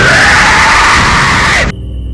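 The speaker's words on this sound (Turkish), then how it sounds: "Bana bağırdı lan birisi." A loud, close scream from a Slenderman-style horror video game rings out for about a second and a half, then cuts off abruptly, leaving quiet background hum.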